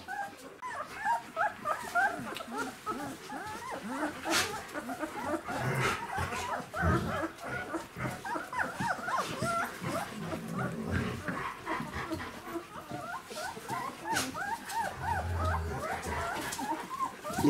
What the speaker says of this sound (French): Les grognements que vous entendez derrière, hein, c'est pas du tout de l'agressivité